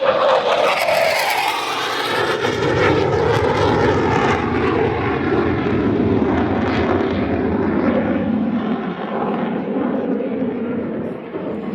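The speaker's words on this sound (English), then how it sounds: "so that A4 can conduct these high-speed passes" An A-4 Skyhawk jet makes a high-speed pass at the Midland, Texas airshow, a loud sustained roar that swells and then slowly fades over about twelve seconds, with an announcer talking over it.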